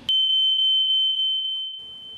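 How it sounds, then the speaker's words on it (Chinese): An alarm sounds as one loud, piercing, steady electronic tone that starts abruptly and holds for nearly two seconds before cutting off, close and alone. "万一发生意外，听到警报器的声响"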